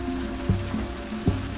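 Steady rain pattering on a surface during a tornado, with a low rumbling background and a couple of brief louder thumps.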